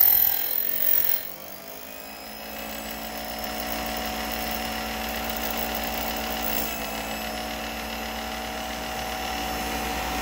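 Manual key duplicator cutting a copy of a key, a steady continuous grinding whine with a high metallic tone that holds evenly for about nine seconds after a brief uneven start, close and alone.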